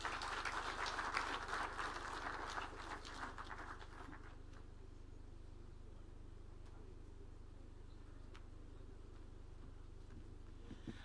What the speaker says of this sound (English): Another round of applause for CS.